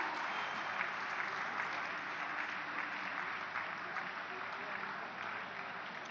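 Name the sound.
applause at Kashi Tamil Sangamam inauguration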